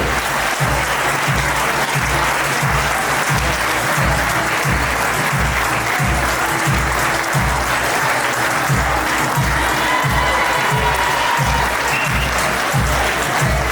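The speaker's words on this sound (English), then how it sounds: "A big round of applause for him too." An audience at a school teachers' award ceremony gives a PE teacher a round of applause, loud continuous clapping throughout with a rhythmic low thumping running underneath.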